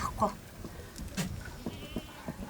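Sheep and a lamb bleat near a herder during a traditional ewe-to-lamb bonding practice, several short bleats spaced apart, fairly quiet, with a person talking over them.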